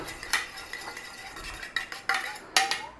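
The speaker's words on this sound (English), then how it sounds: "In there, buttermilk. Melted butter. Got an egg? Give it a little beat up." Egg beaten with buttermilk and melted butter in a bowl, irregular clinks and scrapes of a utensil against the bowl in short bursts, fairly quiet and close, with no voices.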